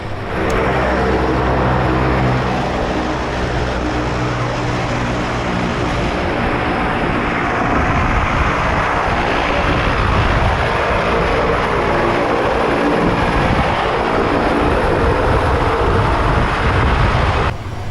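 A Pilatus PC-6 aircraft's engine drones loud and close as it taxis and takes off, a steady broadband roar with low harmonic hum that holds continuously throughout without a break.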